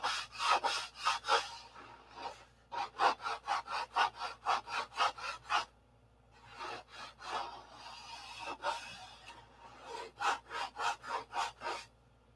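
Sandpaper rubs back and forth over the wooden cap strips of a P-47 model aircraft wing in quick rhythmic strokes, in several bursts separated by short pauses, close and clear with no talking.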